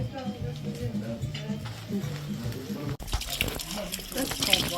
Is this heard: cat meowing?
no